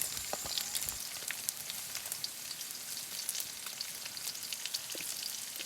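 Garlic and onion sautéing in a pan with browned pork, a soft, fairly quiet sizzle dotted with small crackling pops, no talking.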